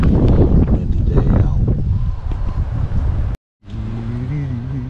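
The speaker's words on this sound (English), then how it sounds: "Windy day" Strong wind buffets the microphone in loud, rumbling gusts, cutting out briefly before a low engine-like hum returns alongside the blowing.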